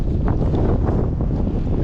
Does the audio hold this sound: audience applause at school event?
no